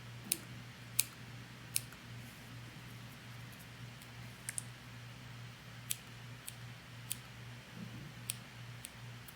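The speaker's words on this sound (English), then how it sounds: "you can put in a few extra little snips to kind of make it a little shaggier looking" Scissors snip clay rose petals in a majolica ceramics workshop, making small sharp clicks spaced irregularly, roughly a dozen, faint and close over a steady low hum, with no voices.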